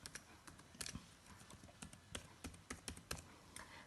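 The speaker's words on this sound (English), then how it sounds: "So this is the data that I enter with the help of the keyboard" Someone types on a computer keyboard, a quiet, irregular patter of close key clicks with brief pauses and small bursts of faster strokes.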